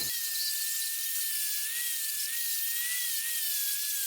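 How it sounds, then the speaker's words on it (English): A grinder is run outdoors to clean up spot welds joining steel washers, giving a loud, continuous high-pitched whine with a steady tone that holds without a break. "to clean up the spot welds a little bit, we brought it outside and we're going to do a little bit of grinding to it"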